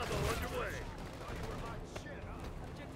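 Jackal PDW fire in a video game comes as rapid, dense bursts of gunshots at moderate volume, layered over a busy in-game mix with a voice talking through it.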